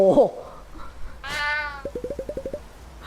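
Cartoon cat meows from the video game Cat Quest III. A drawn-out meow is followed by a quick, rhythmic string of short chirpy mews, all fairly soft.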